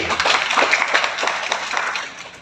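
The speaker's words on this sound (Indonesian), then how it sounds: "Kita beri aplaus." Applause from the congregation at a church wedding blessing service, a short burst of many hands clapping at moderate distance, steady for about two seconds before tapering off.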